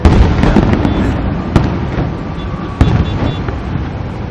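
Fireworks bursting at a distance during Canada Day celebrations in Ottawa, sharp booms and crackles at irregular intervals over a steady rumbling background of wind and crowd noise.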